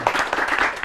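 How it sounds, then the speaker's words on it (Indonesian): Audience applause at an event at Universitas Merdeka Malang in Indonesia, a steady wash of clapping that stays even and fairly loud for under a second. "Tepuk tangan."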